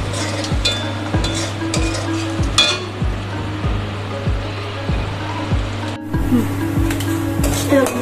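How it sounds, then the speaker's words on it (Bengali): Spice masala with dried chilli sizzling and frying in a pan, a steady close sizzle broken by regular rhythmic stirring scrapes, with no talk. "মশলাটা ভালো করে ভেজে নেব"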